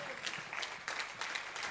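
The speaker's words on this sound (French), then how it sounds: "Je voudrais qu'on applaudisse la jeunesse, les hommes d'honneur, les femmes illimitées" A church congregation applauding during a Sunday service, crowd clapping as a broad, steady wash with a few louder swells, close and continuous throughout.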